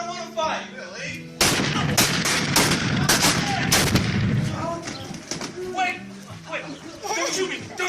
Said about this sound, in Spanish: Nueve hombres se disparaban casi a quemarropa.